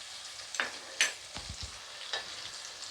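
Turmeric and red chili powder stirred in hot oil in a pan give a quiet, steady sizzle with a few sharp clicks and scrapes of the spoon, and no voices.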